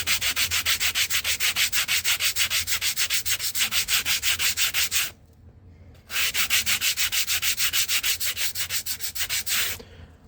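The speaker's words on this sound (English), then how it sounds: "Now I'm going to use the 45-degree sander to put a bevel on this foam." A 45-degree edge sander beveling a foam edge, a loud rhythmic rasping with fast, regular strokes, a brief pause midway, then more strokes.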